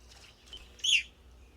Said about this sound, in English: they eat large seeds, and they sound a little bit like pea whistles